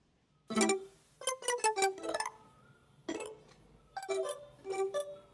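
Two glass pluck presets on an Arturia MiniFreak synthesizer arpeggiate in alternating clusters of short, bell-like chiming notes, quiet and separated by brief gaps.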